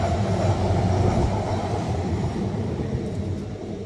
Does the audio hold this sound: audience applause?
no